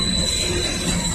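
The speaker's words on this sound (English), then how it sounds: "This is the train that this train was waiting for to go by." A Norfolk Southern train passes with a steady, loud rumble of rolling cars and a thin high whine over it, close and continuous.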